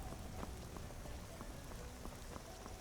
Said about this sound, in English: there is something relaxing about, like, rain and thunder